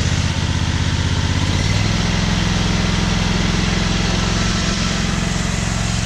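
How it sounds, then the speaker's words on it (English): An electric motor drives a power steering pump on a test rig, its steady hum shifting to a higher, stronger whine as the speed is increased, loud and continuous. "But now if I increase the speed of the motor,"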